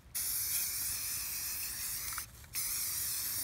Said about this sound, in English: you're gonna spray it over with the black and the green